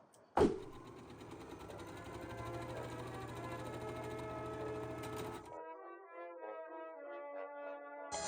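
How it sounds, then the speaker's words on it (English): A sewing machine stitches bedsheet fabric mock-up panels with a steady close mechanical whir for about five seconds after a sharp start knock, then stops, leaving a faint tonal hum. "I'm just sewing together the mock-up panels out of the bedsheet just to test the fit and shape of the pattern"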